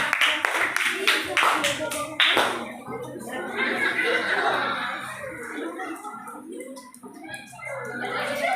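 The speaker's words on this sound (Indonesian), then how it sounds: "Oke, tepuk tangan untuk kelompok 2." Students in a classroom clap in a short burst of quick, bright claps for the second group's presentation, then chatter, giggles and children's voices take over.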